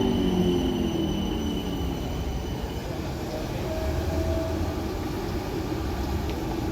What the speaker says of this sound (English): Approaching now is the slightly delayed 12:43 South Western Railway service to London Waterloo.